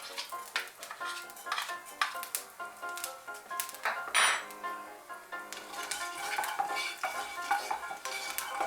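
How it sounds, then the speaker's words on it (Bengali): Nigella seeds (black cumin) sizzle in hot oil as they are stirred in a pan, a steady crackle broken by frequent clinks and scrapes of a utensil against the metal. "তেলটা গরম হয়ে গিয়েছে, এর মধ্যে আমি কালো জিরে দিয়ে দিচ্ছি।"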